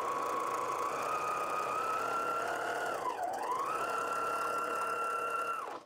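A sewing machine stitches a straight seam along a quilt strip for a diamond string block, its presser foot edge guided by the fabric: a steady, close mechanical whir runs unbroken for about six seconds, dipping briefly in pitch midway.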